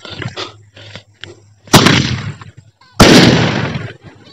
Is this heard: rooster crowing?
no